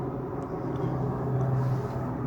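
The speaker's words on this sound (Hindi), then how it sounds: "हवाई जहाज़ जाने की आवाज़ आ रही है ऊपर से।" Airplane passing high overhead, heard from inside a home: a low, continuous broadband rumble holds steady throughout, distant and muffled, with no speech over it.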